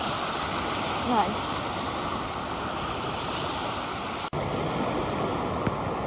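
Waves wash steadily along the Lake Erie shoreline in a continuous surf roar with wind noise, and a voice speaks one short word.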